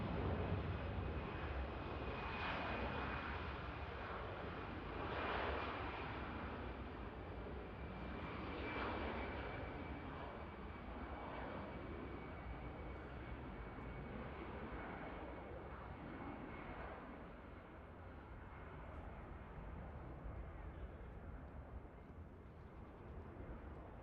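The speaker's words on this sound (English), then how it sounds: "Here goes the Finnair." A Finnair airliner passing at Manchester Airport, a distant, steady jet engine roar that swells and fades gently over a long stretch, with no talk.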